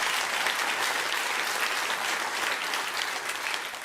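A studio audience claps steadily and loudly for about four seconds during a Bill Maher talk show segment, a dense, even wash of applause with no pauses.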